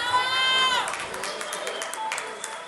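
Audience at a national interclub competition applauding an athlete taking the stage, a crowd wash of clapping rising after a brief sung or held tone, steady and moderately distant with scattered cheers.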